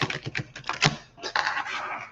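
A quick run of crisp, clicking taps and flutters, like a deck being shuffled up close, steady and fairly loud.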